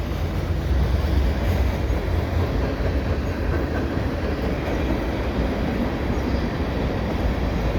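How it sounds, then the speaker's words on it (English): A CN mixed freight train with lumber and center beam cars rolls past steadily, a continuous low rumble of wheels and cars with faint clacking, loud and close throughout. "Always a good spot here to get some trains."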